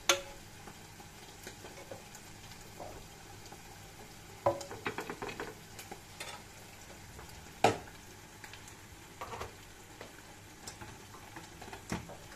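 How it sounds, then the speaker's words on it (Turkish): Minced meat fries quietly in a pan for Turkish tantuni, a soft continuous sizzle with scattered sharp clinks and scrapes from stirring at moderate distance. "Kavrulan kıymamız."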